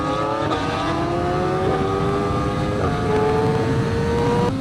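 A Suzuki GSX-R 600 supersport motorcycle pulling hard out of first gear on the street, its engine whine climbing steadily in pitch with several quick upshifts, loud and close throughout with constant wind rush.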